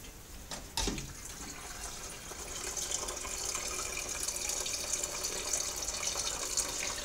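Wort draining from a lifted grain bag into a colander while brewing an oatmeal stout on the stove top, a soft steady trickle and splash with a brief knock near the start.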